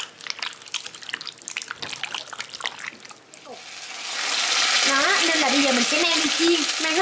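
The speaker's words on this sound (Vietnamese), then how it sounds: "Khoai thì mình mang đi chiên." Potatoes frying in a pan for a Vietnamese duck stewed with fermented tofu dish, a loud steady sizzle that swells after a few seconds of stirring and clatter, with a voice talking over it.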